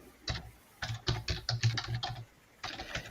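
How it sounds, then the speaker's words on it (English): Someone types on a computer keyboard at close range, tapping out an uneven run of quick keystrokes with short pauses in between. "when people are looking, my typing gets worse"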